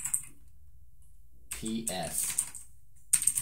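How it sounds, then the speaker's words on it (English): Fast bursts of typing on a mechanical keyboard, crisp clacking keys in short runs separated by pauses, close up, with a voice speaking briefly between the runs. "Dear Internet, do you like the sound of mechanical keyboard?"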